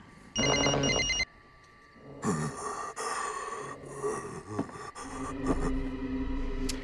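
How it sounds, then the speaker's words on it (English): Telephone ringing downstairs in the video game NightCry, one loud electronic ring burst near the start, followed by breathy gasps and tense ambient game sounds. "his phone is going to go off downstairs"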